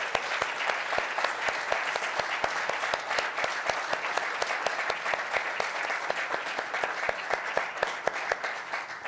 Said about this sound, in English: join me in a round of applause and sort of thanking Thomas, thanking Carlos for the really nice insights and conversations